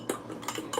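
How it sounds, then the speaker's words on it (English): A spoon knocks and scrapes inside a container, stirring a mixture made to treat a hen's sour impacted crop. Three quick, close clinks come in a short burst with no talking. "Gotta stir it up, you know?"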